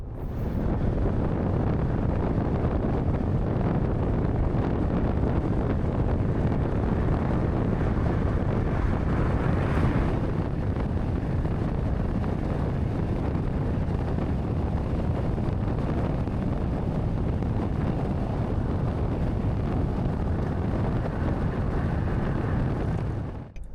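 Steady, loud wind roar rushes past the microphone for the whole stretch as a car drives at high speed on the interstate carrying an ebike on an OUTFITR single rack, with no voices.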